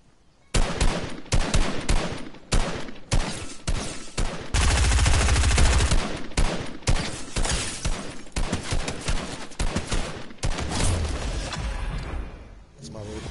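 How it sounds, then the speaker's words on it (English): Rapid gunfire in Fortnite cracks out in dense bursts and a sustained automatic volley, loud and close, with brief gaps between the shots. "Shooting at me, Zane."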